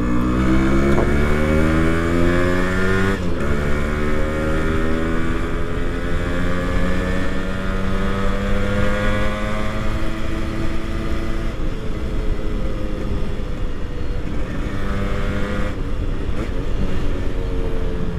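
A Yamaha RX100 motorcycle fitted with a quick throttle revs loud and close, its engine note climbing and dropping in repeated throttle blips across a long continuous run, with no one talking.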